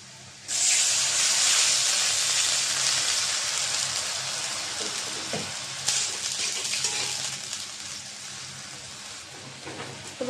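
Water is poured into lightly fried onions in a hot kadai and bursts into a sharp, loud hiss of steam and sizzle. It slowly settles into softer crackling, with a few stirring knocks.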